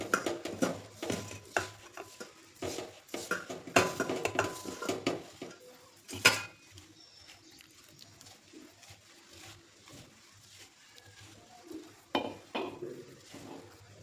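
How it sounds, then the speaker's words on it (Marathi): Flour dough being kneaded with lukewarm water in a bowl: soft rhythmic thumps and clatter against the bowl, busy at first, then slower and quieter. "पीठ मळून घेते"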